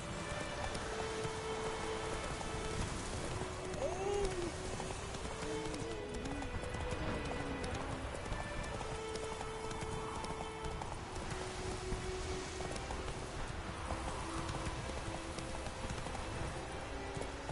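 Roach the horse's hooves clip-clop steadily through the rain in The Witcher 3, with a continuous wash of rainfall and a low tonal backdrop running under the whole passage.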